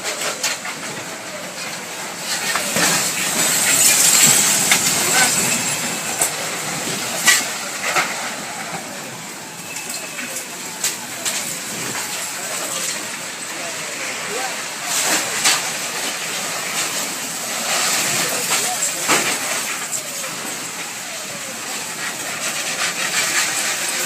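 A deadly tornado roars past in Tuscaloosa, Alabama, a loud, sustained rushing roar with crackling bursts and rumbling surges lasting the whole stretch, with voices faintly present.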